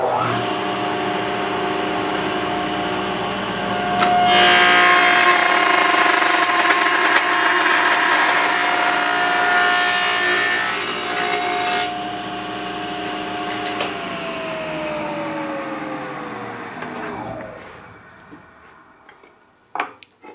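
Table saw whirs steadily, then rises into a louder, denser roar for several seconds as it cuts a spline slot in wood, before winding down to silence.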